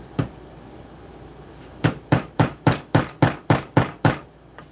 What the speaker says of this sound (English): maybe if I use my other hammer, the lucky hammer